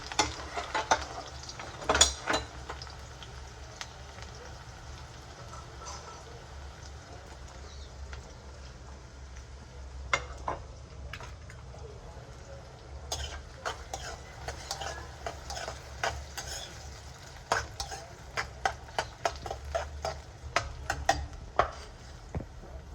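Onions sizzle in a pan for a liver curry, a steady low fry broken by clattering spoon stirs and scrapes, with bursts of sharp clicks toward the end and no talk.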